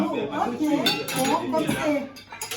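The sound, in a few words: cutlery and dishes clinking while setting the table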